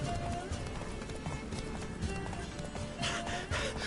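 Roach the horse galloping in The Witcher 3, a steady drumming of hooves under continuous game music and ambience, with a voice speaking over it.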